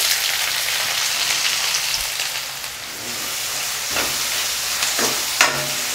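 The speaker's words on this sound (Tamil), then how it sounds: "ஒரு பெரிய வெங்காயத்தை பொடி பொடியாக கட் பண்ணி சேர்த்துடலாம்." A large, finely chopped onion fries in hot oil in a pan, giving a steady, close sizzle with a few soft stirring scrapes and no voices.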